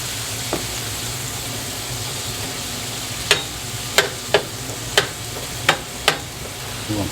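A burger patty with onions fries on a griddle, a steady close sizzle broken by several sharp metallic taps and scrapes in the second half.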